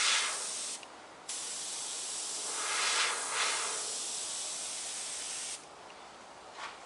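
An airbrush sprays a coat of paint as a continuous close hiss with a couple of brief pauses and small swells in loudness, with no talking.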